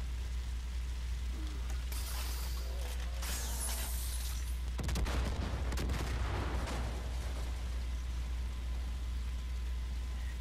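Gunfire in the video game Far Cry 5, bursts of rapid shots and rattling fire that come and go over a constant low background rumble, no voices.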